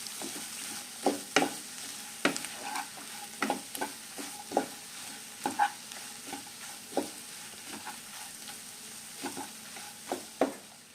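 A spoon scrapes and stirs through a thick samosa filling in a pan, with repeated uneven clinks and scrapes over a soft steady sizzle.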